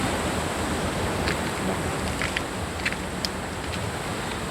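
Steady broadband rush of surf washing in, constant and fairly loud, with no voices and a faint hiss of wind across the microphone.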